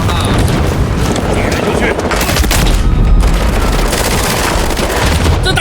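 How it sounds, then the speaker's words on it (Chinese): AK rifle gunfire in a Call of Duty game: loud, rapid bursts and booming shots that pile up almost without pause, with brief gaps between volleys. "bang bang bang！ 哇，打击这AK 打击手感太好了！"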